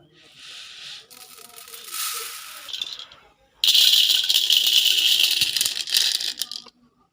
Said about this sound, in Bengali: চাল ভাজা হয়ে গেছে, এখন আমি ঢেলে নিতেছি